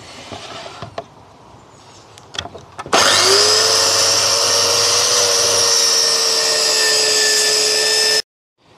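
Power saw cutting through a sheet of plywood for a workbench base, starting abruptly after a few faint handling knocks and running loud and steady for about five seconds before stopping.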